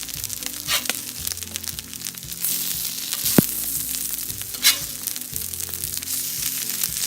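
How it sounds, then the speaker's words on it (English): Cauliflower, kale and quinoa patties frying on a cast iron griddle, a steady close sizzle with a few sharp pops from corn kernels bursting in the fat. "Look out for the corn. It likes to pop."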